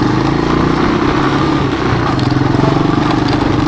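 A 1986 Honda TRX200SX ATV engine buzzes close and loud while riding, with a steady pulsing exhaust note and a shift into second gear, wind noise underneath.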